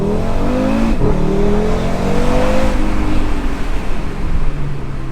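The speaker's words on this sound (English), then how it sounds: "I'm driving a 5-pot, 400 horsepower through a little forest." An Audi RS3's 400-horsepower five-cylinder engine pulls hard on a forest road, a loud, close, rising engine note that drops briefly at a gear change, then climbs again with a gravelly warble.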